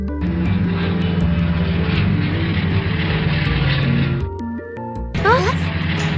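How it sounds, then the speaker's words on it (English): A cartoon toy airplane starts up with a steady, droning propeller-engine hum that holds loud for several seconds, then cuts off, followed by a quick rising whistle-like flourish. "A toy airplane starts to operate."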